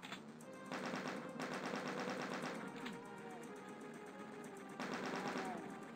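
Rapid rattling fire from chaingunner enemies in the Sunder map Obsidian Nightmare, heard in several sustained bursts. The rattle stays fairly quiet and somewhat distant, with a steady background hum.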